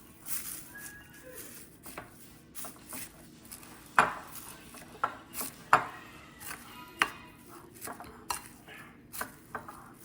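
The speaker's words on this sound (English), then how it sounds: "Now I'm gonna mix it all together in the rice." Utensil mixing seaweed and sesame seeds into rice in a bowl for salmon teriyaki onigiri, giving soft scraping with a series of sharp clinks and knocks against the bowl, fairly quiet and without talk.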